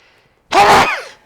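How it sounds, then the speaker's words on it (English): A single loud, sharp sneeze bursts out after a moment of quiet, then trails off quickly. "Oh, that was a sneeze and a half."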